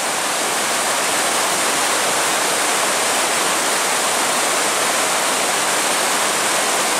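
Hull's Creek Falls waterfall roars as a steady, loud broadband rush heard up close, with no voices over it.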